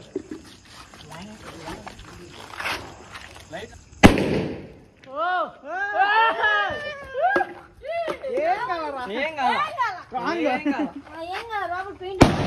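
Sharp bangs from a firecracker burst, with a loud crack near the start, then animated voices and shouts crowding in afterward.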